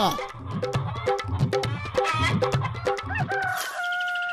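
A native hen clucks in quick, busy bursts close by while a rooster crows, the clucking continuing in a rapid uneven rhythm before a longer drawn-out call near the end.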